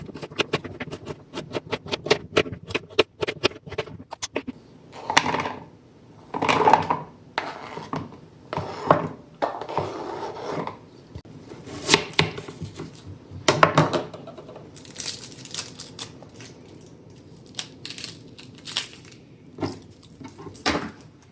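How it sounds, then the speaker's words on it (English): A knife chops carrots on a cutting board in a kitchen, producing many close, crisp thuds, fast and steady in runs at first, then in looser irregular bursts with short pauses. "And cut the carrots up."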